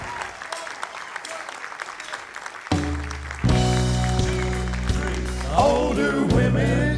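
A live audience claps for a country singer on a music variety show. A dense patter of applause runs for almost three seconds before a band kicks in loudly and drowns it out.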